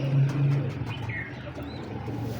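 A pure-bred racing pigeon coos close by in a soft, low, repeated call, with faint chirps and background noise around it.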